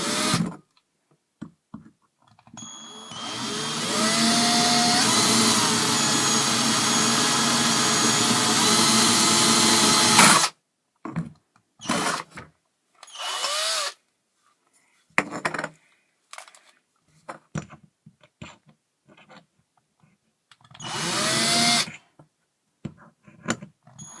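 A power drill bores into a penny, a sustained grinding whine lasting several seconds, followed by a series of short, separate bursts of drilling with quiet gaps between them.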